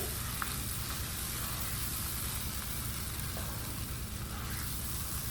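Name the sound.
stirring shrimp cheese sauce in a pan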